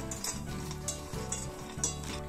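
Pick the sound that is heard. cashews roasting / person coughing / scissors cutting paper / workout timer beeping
cashews roasting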